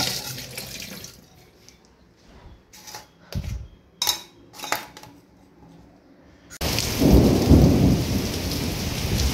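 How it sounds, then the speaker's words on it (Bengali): Heavy stormy rain pours down outside, with a few sharp thunder-like cracks early on before a dense, roaring downpour takes over loudly for the final few seconds; no voices. "আর বাইরে এখন মুষলধারে বৃষ্টি হচ্ছে, আর মাঝে মাঝে এরকম ঝোড়ো হাওয়া চলছে"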